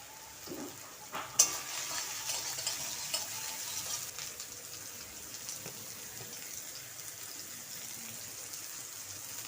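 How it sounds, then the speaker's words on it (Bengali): Soybeans fry in oil in a wok, a soft distant sizzle with a sharp clank early on and a few light stirring knocks, staying quiet and steady afterward. "তবে আমি সয়াবিন ভেজে নেব"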